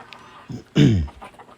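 Chickens in a farm coop where new chicks have hatched give one loud, close clucking call, preceded by a softer, brief sound.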